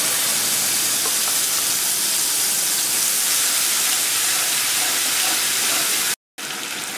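Loud steady sizzle of ground spice paste dropped into hot oil already tempered with cumin seeds, while cooking an oil curry of live koi fish. The hiss is continuous and dense, cutting out for a moment near the end.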